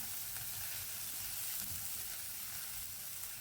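Grated ginger and green chillies fry lightly in a pan for a vegetable dish, giving a dense, even hiss and crackle of hot oil that holds steady and close throughout with no talking.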